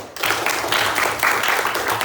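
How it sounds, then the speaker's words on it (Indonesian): Students in a classroom clapping together for two classmates, a brisk, fairly loud patter of many hands that continues steadily through the short stretch, with faint voices underneath. "tepuk tangan dulu untuk Marwah dan Dafa"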